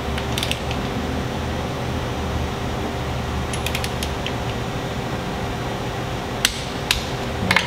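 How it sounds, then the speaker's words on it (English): Torque wrench tightening a bolt on a Polaris RZR motor plate, with steady low mechanical whir and a few sharp metallic clicks near the end. "So we're just going to go ahead and torque the bottom one."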